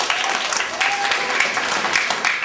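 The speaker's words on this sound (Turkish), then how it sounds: "burada güzel alkışlayın" Children at a village children's club clap together in a lively burst, with sharp individual claps over the group sound and a faint voice threaded through.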